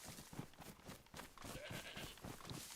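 Bleating of goats in the DayZ survival video game, several overlapping calls at moderate distance amid constant noisy ambience, no talking.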